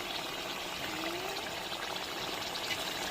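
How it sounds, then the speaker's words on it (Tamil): Water pouring steadily into a pot of beef gravy with tomato and onion, a continuous close splashing rush lasting a few seconds with no talking. "தேவையான தண்ணி விதிக்கணும்"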